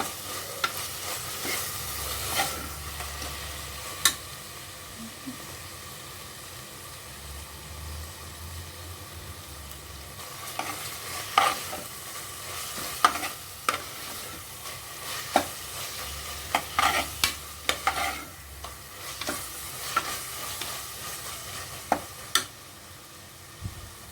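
Ginger garlic paste sautéing in a pan for mutton kolambu, a soft steady sizzle with frequent sharp clicks and scrapes of a spoon stirring close by.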